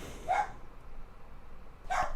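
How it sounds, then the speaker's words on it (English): Two short dog barks sound in a neighborhood, one near the start and one near the end, separated by a quiet gap. "Every dog in my neighborhood is just going to start barking because of my dog."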